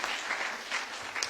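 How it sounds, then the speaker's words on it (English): An audience applauds after a speaker at a leadership dialogue event, a brief, steady crowd clapping heard close and evenly throughout. "Let's clap for him before he leaves."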